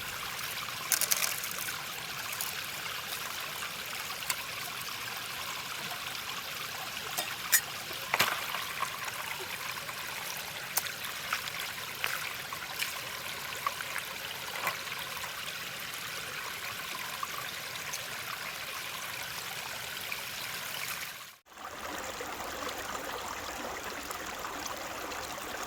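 Water washes steadily through a GEOSLUICE Californian Mini sluice, a continuous trickling, streaming flow outdoors with scattered small splashes and a brief dropout near the end, without talking.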